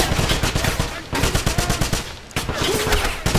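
Dense automatic gunfire from a Wolfenstein video game, rapid bursts rattling almost continuously, loud and close, with brief gaps between volleys and no talk.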